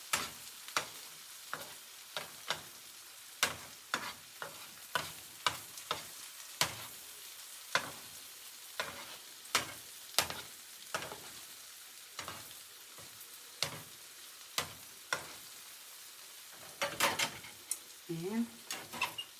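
Shrimp egg foo young patty frying in a pan, a steady sizzle punctuated by frequent sharp utensil taps and scrapes against the pan, close and moderately loud, with a brief low voice near the end.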